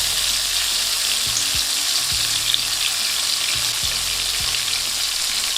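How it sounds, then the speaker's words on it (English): Steak sears in a hot pan with garlic and plenty of butter, giving a loud, steady sizzle and spatter. Soft utensil knocks sound now and then underneath, with no voices. "I'm gonna add in my garlic and beautiful knobs of butter."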